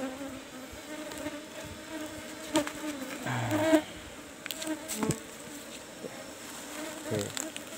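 Apis cerana honey bees buzz around an opened hive box during a honey harvest, a faint continuous hum with several louder passes as individual bees fly close by.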